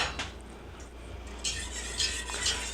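Metal spoon scraping and clinking in a bowl as vinegar is stirred into a baked beans mixture, soft scrapes building to louder, brisk stirring toward the end, close and alone.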